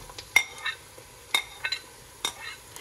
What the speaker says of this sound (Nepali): यो प्याज कति मिनट जति भुट्नु भयो आमा?